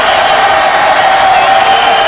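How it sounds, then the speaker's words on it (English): The Lowell crowd at a high school football state final roars steadily from the stands, a loud continuous wash of cheering and shouting that never lets up. "Lowell crowd urging their defense to come up with a stop."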